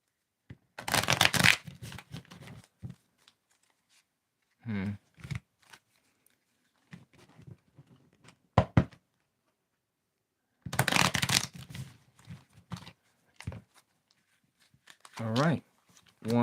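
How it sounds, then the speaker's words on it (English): Cards are shuffled in several quick riffling bursts, close and crisp, separated by pauses, with a person speaking in between. "Give it a good old shuffle."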